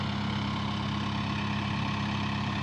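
A Sonalika 750 DI tractor idling while a soil trolley is loaded, a steady, close engine rumble with an even low throb and no breaks.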